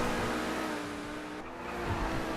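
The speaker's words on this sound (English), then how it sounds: "Oh, skidding. It was way out." A race car in a Grand Theft Auto Online race, with a steady engine drone, a slight dip and a swell near the end, up close and without speech.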